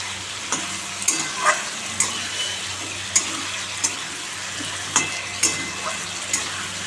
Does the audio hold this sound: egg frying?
yes